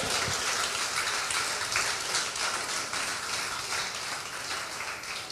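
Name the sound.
congregation applause in church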